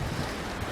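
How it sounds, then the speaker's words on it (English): Strong, steady wind buffeting the microphone outdoors, a continuous low rumbling roar with no voices. "Outside, sorry about the wind."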